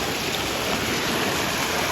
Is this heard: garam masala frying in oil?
no